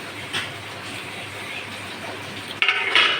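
Vegetables for a bitter gourd (karela) chorchori are stirred in a pan over a steady close sizzle, with a few sharper scraping strokes of the spoon near the end and no talking.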